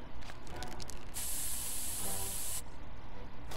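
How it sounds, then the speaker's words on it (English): A pepper spray burst in the South Park video game, a loud continuous hiss lasting about a second and a half over a dense, noisy game background. "I will pepper spray you back to the Stone Age"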